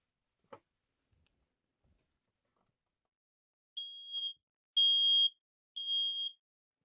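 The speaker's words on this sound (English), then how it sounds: "The smoke detector should be tested. To do that, we press the test button. We hear a series of tones." Three shrill electronic test beeps from a smoke detector in a 2026 Newmar Essex motorhome sound in a row after a couple of faint clicks, each a steady high tone separated by short pauses, loud and close.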